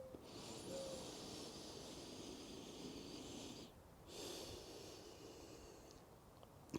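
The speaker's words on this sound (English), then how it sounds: "Together, a full breath." Deep, slow breaths drawn in and let out during a pre-surf yoga warm-up, two long airy waves close by with a brief pause between them and no talking.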